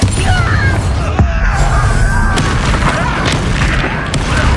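Bombarda blasting spell exploding in a Hogwarts video game, a loud booming blast with rumbling debris that fills the whole moment.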